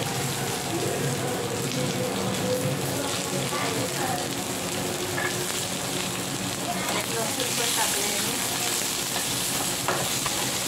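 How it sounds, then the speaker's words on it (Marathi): Onion roasting in hot oil in a home kitchen, a steady dense sizzle and crackle running unbroken and fairly loud throughout, with faint stirring scrapes. "कांदा मस्त भाजून घ्यायचा"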